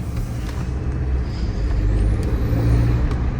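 A 2022 Chevy Silverado pickup's turbocharged engine, a loud, steady low rumble with a thin rising turbo whistle appearing partway through, heard from close by inside the truck.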